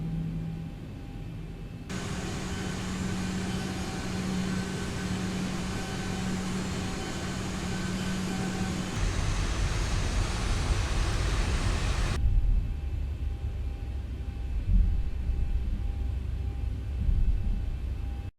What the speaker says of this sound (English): So disconnect the brakes, apply thrust, and cross the runways as required.